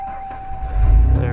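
An engine cranking in a cold upstate New York winter, rising into a loud low rumble about halfway through, with a steady whine riding over it.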